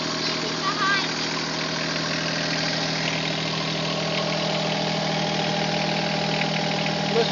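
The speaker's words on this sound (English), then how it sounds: "I'm driving a tractor with Luke and Stevie behind me." Tractor engine running at a steady idle-like drone, loud and close with constant vibration, a person talking over it at times.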